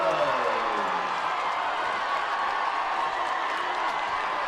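A high school football crowd at a West Jordan game roars and cheers steadily after a fourth-quarter touchdown, a dense, sustained wall of voices and applause with no break.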